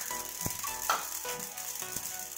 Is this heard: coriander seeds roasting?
yes